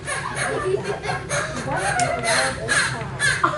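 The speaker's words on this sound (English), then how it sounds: "There is my friend, Carlton the Crow" A crow caws at a children's show, loud and close, mixed with chuckling and laughter-like sounds over a busy, continuous backdrop.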